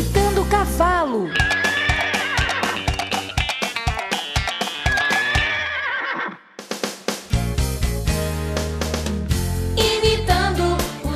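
A voice imitates a horse neighing in a cheerful children's farm-animal song, with whinny-like vocal runs layered over loud, steady music with a pounding beat throughout.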